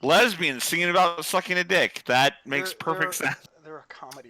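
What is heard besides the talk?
No distinct noise like a dog, phone or traffic.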